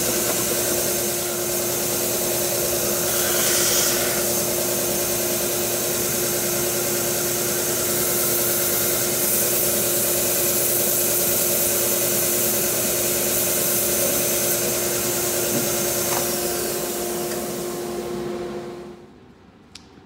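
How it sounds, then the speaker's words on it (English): A power sander works the last side of a wooden box, a steady loud motor drone with constant grinding hiss running unbroken for most of the stretch before cutting off near the end. "I'm gonna sand up this last side of the box"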